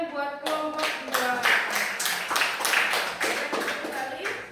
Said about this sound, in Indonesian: Kita beri tepuk tangan buat kelompok 2